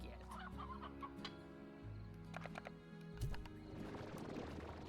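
Roosters cluck in the video game Slime Rancher, in several short bursts over a steady low in-game hum, with a brief thump partway through.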